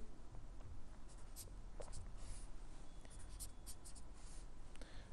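Pen or pencil on paper while a simple structural diagram is drawn, quiet close scratchy strokes in short bursts, some longer lines, with no speech over it.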